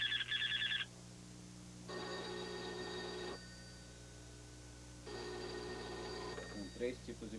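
A telephone ringing sound effect plays through a phone speaker in a dubbing studio. Several distinct ring patterns come in sustained bursts separated by short gaps, fairly loud over a steady background hum.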